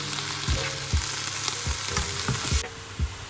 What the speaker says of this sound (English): Now we will add capsicum and paprika. Do not overcook capsicum, just cook for 2 to 3 minutes on high heat.